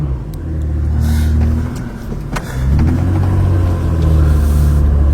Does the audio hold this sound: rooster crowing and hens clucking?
no